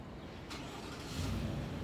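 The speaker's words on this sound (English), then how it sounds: "And now the traffic's picking up because I'm not even leaving yet." Road traffic with cars passing by, a steady low engine rumble that swells as a vehicle draws closer partway through, continuous and moderately loud with no talking.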